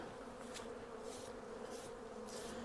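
Honey bees buzz steadily around an opened hive during a mild mid-winter check, a continuous close drone with a few brief louder swells as individual bees pass near.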